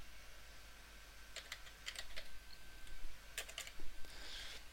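Computer keyboard typing on a desk while setting up a level name in Unreal Engine 4, with two short clusters of keystrokes over a steady low hum, fairly close and quiet.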